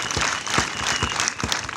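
Steady crowd applause at an outdoor concert in Burera, a dense continuous patter of many hands clapping, fairly loud and close, with no talk over it.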